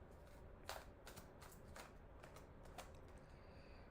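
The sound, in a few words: shuffling tarot cards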